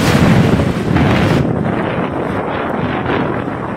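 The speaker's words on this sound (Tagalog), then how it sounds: "Sa lakas ng bugso ng hangin sa Sabtang, halos makalbo na ang mga dahon ng ilang puno." Strong typhoon wind gusts in Sabtang, Batanes, buffeting the microphone with a loud broadband roar that eases slightly after the first second but keeps blowing steadily.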